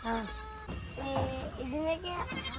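Dwarf goat on a small Kerala mini goat farm bleating in several wavering calls close by, with people talking over and between the bleats.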